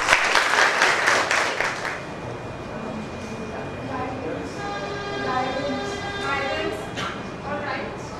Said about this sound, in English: So please welcome her with a huge round of applause.